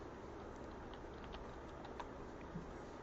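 Keys tap on a computer keyboard in quick, uneven bursts, quiet and close against a faint steady room hiss, with no voices.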